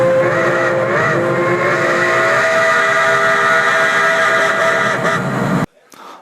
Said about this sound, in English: Larry and Danny were at Denville and heard Eddie whistling frantically.